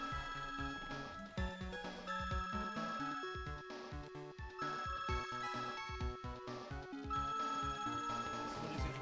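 A telephone in a courtroom game rings steadily through a repeating electronic melody. The tone is bright, layered and continuous, at a moderate level with no talk.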